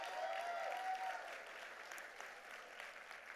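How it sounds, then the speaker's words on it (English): A gala audience at the Korean Community Services of Greater New York's 51st annual gala applauds in a steady, dense wash of clapping that holds for the whole stretch, easing slightly toward the end. "Give yourselves a round of applause."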